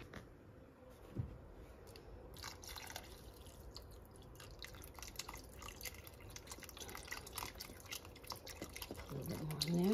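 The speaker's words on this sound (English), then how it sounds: "I'll go ahead and put some more chicken broth in there." Chicken broth pours and splashes into a pot of turkey soup with close, steady trickling and dripping. Small clinks rise near the end.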